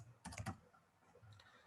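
Quiet keystrokes on a computer keyboard: a quick burst of several clicks early on, then a pause and a second, fainter short run of taps, close and isolated with no talk.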